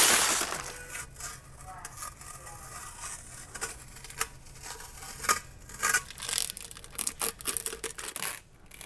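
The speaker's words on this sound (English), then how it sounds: "we're gonna have to take off all of this tape and the paper" Tape and masking paper are torn and peeled off carbon fiber wheels after hydro dipping, giving irregular ripping and crinkling bursts that get louder toward the end, close up, with no talk.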